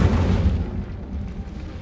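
Incendio fire spell cast in Hogwarts Legacy, a loud, low rumbling whoosh of flame that swells at once and then fades away over about two seconds.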